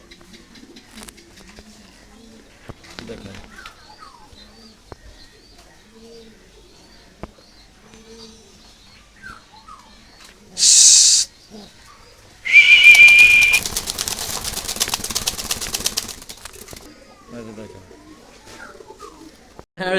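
Pigeons in a loft of Lahori, Mundian and Modena breeds, with faint cooing and brief wing-flapping bursts under someone speaking throughout.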